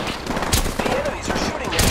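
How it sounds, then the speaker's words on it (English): Gunfire in the Apex Legends video game, a dense burst of shots crackling continuously through the short moment, loud and close, with game sounds layered underneath. "Taking fire, brothers."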